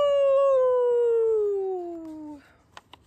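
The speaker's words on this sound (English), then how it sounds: "There's the coyote." A single long coyote howl rises clear and loud, then slides steadily lower in pitch for over two seconds before breaking off, followed by a couple of faint clicks.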